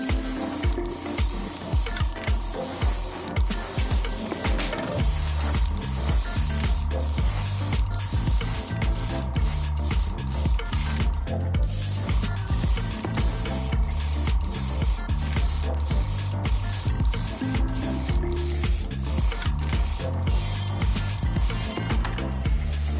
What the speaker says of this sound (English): Black primer is used as a base to help bring out panel lines on subsequent coats of paint.